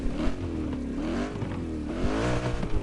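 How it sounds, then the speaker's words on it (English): A 2024 Ford Mustang GT in a video game, its V8 engine revving and holding a wavering, rising and falling drone, loud and close with no talk over it. "This is the 2024 Ford Mustang GT."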